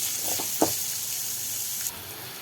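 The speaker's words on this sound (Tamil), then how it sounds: "நான் வெங்காயம் பச்சை மிளகா கடலைப்பருப்பு உளுந்து மட்டும் போட்டு வதக்கிட்டு செய்கிறேன்" Onion, green chili, chana dal and urad dal saute in a pan, giving a soft continuous sizzle close by with a couple of brief clinks of a spoon.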